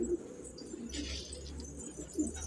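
A young stray pigeon coos softly several times close by, with faint background noise and no talking.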